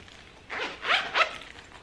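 A zipper on a Sak crossbody wristlet bag is pulled in three quick, close strokes, each a short raspy zip, with quiet pauses around them.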